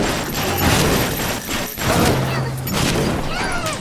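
Rapid enemy gunfire in BioShock Infinite crackles in dense, continuous bursts with booming impacts, staying loud throughout under a tense game mix.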